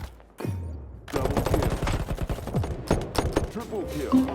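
Gunfire in a mobile shooter video game: rapid bursts of automatic fire, dense and clattering, after a brief opening sound. Fairly loud and close, with a faint voice in the mix.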